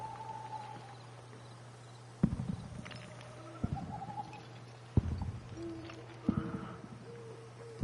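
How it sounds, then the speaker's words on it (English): Footsteps approach behind the player in a video game: about four heavy, evenly spaced thuds, roughly a second and a half apart, over a steady low hum and faint owl-like hoots. "I heard footsteps behind me."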